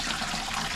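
A brushed gold Mondawe waterfall bathroom faucet runs at full flow, a steady close rush of water falling into the sink with no talking.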